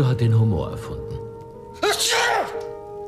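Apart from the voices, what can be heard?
sneeze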